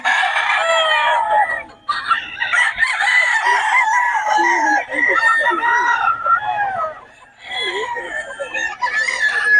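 Pumpkin sweater gamefowl roosters for sale at a Bocaue market crow repeatedly and close by, several birds overlapping in long strained calls with brief clucks between them.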